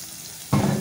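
Jackfruit masala frying in a pan, a sudden burst of loud sizzling that starts partway through and continues steadily to the end, with no talking.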